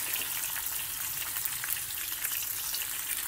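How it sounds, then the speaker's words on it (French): A whiting fish steak sizzles in a pan over lowered heat, giving a steady, close, bright crackling fry with no talking. "je baisse mon feu, pas que ce soit trop chaud, pas que ça accroche. Et je vais mettre mon morceau de poisson."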